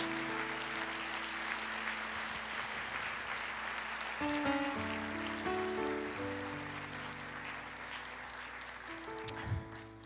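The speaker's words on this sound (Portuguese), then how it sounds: "Você pode aplaudir Jesus?" Church congregation applauding Jesus, a dense continuous wash of clapping from many hands filling the room, steady and moderately distant, with brief tonal music or voices surfacing partway through.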